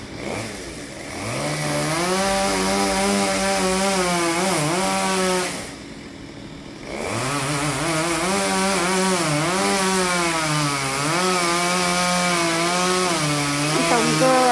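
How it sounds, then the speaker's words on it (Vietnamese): Chainsaw cutting a royal poinciana tree branch, a loud, sustained whine rising and falling with load, briefly dropping out around the middle before resuming strongly. "cưa lúc khúc củi rồi thì cái anh Tùng lấy tay dùng sức để thả nó xuống."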